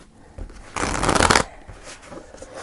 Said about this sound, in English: And I'm going to choose these cards because they're a little bit big to shuffle.